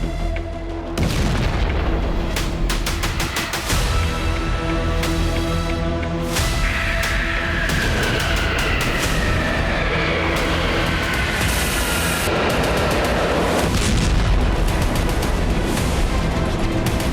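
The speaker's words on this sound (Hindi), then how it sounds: "उत्तर पूर्वी यूक्रेन 3-3 टन के बम धमाकों की शॉक वेव से दहल उठा है।" Russian glide bomb blasts striking Kharkiv in northeastern Ukraine, heard as heavy, loud booming explosions with a dense roaring rumble that persists throughout, broken by sharper cracks and sweeping high-pitched noise.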